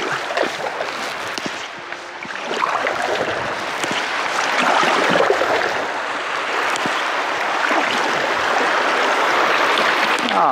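Rushing water over a small rapid on the Lusatian Neisse river, heard continuously and fairly loud while paddling downstream, with splashes and turbulence building after the first couple of seconds.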